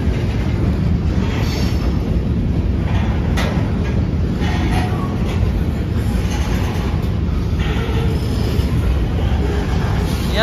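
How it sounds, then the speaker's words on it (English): A CSX freight train rolls steadily past close by, a brand-new Pacific boxcar among the cars, with loud continuous rumble, rhythmic wheel clatter and occasional faint squeals throughout. "See right there is the Pacific boxcar, brand new."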